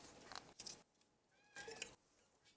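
A pet cat meows several times in a quiet room, short, faint calls spaced apart, with low background noise.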